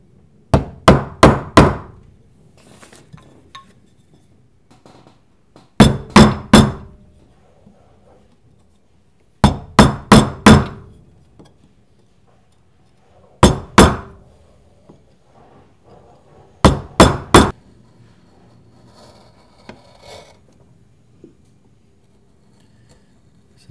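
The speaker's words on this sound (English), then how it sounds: "I'm going to start to hammer in with a mallet the stop cuts" Mallet striking a carving gouge to make stop cuts in wood for a heraldic scallop, five clusters of three or four sharp ringing knocks spaced several seconds apart, with quiet pauses between.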